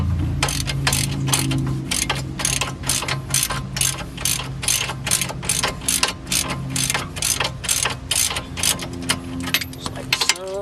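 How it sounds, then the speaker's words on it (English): Ratchet loosening two 17 mm bolts during a wheel stud replacement, giving a rapid series of close, sharp clicking strokes in an even back-and-forth rhythm with no talking. "then you're going to take your 2 17 millimeter bolts off."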